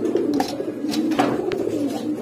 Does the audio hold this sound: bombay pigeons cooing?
yes